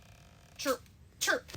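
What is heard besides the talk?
sneeze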